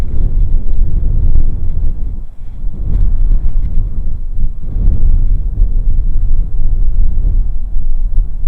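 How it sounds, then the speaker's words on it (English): Steady wind buffets across a hilltop near Camel Tank, Lennonville, in Western Australia's Murchison Region, a loud continuous low rumble that swells and dips in gusts. "Pretty breezy up here."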